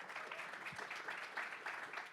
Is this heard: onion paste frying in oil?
no